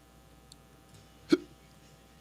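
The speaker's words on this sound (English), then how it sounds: "this hiccup does get to me on me nerves" A single sharp hiccup from a person rings out once, close and distinct, against a quiet room with faint background noise.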